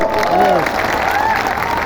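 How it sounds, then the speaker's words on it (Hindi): A live audience claps loudly and continuously while a person talks over the applause. "ताली बजाओ।"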